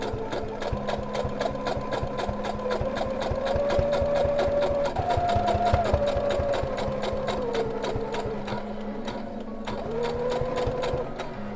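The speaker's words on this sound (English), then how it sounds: "So I'll do a top sew all the way around like this just to make sure it sits flat." A sewing machine topstitches around the edge of homemade winter pyjamas, a fast, even, close-up needle rattle running continuously, its pitch shifting slightly as the speed changes.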